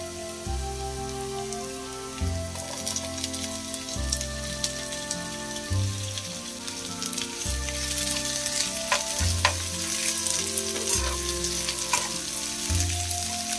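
Beans with chopped garlic fry for egg fried rice, a constant close sizzle with a rain-like crackle, while a steady low repeating rhythmic pattern runs underneath and occasional stirring clicks cut through.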